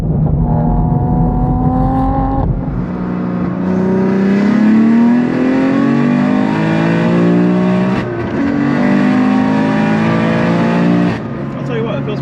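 A manual BMW F82 M4, built to over 900 wheel horsepower, revs and accelerates through the gears, its engine note climbing, dropping at each shift and climbing again, loud and close from inside the car while people talk.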